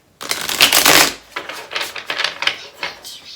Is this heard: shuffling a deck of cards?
yes